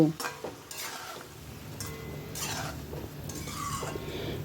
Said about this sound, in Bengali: হাফ বাটির মতো মটরশুঁটি মটরশুঁটি দিয়ে ভালো করে নেড়ে নিব